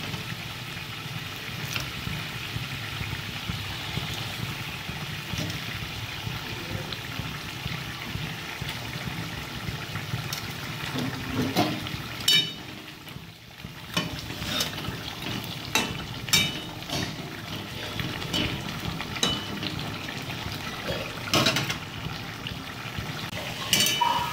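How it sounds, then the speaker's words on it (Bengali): Katla fish pieces going into a boiling curry gravy for kalia, with a steady bubbling sizzle and scattered clinks and stirring knocks throughout, louder bursts of splashing near the middle, no talk. "ঝোলটা আমার ফুটে গেছে, এবার আমি মাছগুলো দিয়ে দেবো।"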